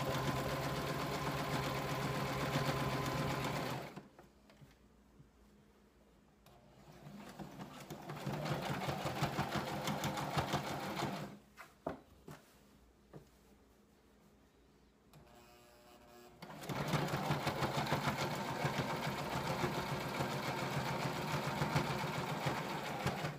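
A sewing machine runs steadily while stitching a pillowcase into a gathering apron, its motor hum loud and continuous, pausing for a few seconds twice before resuming at full speed.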